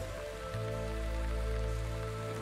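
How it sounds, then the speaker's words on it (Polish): Steady rain falls in the video game The Wandering Village, a constant hiss layered over sustained low ambient game music and tones, with no talk. "Mamy deszcz."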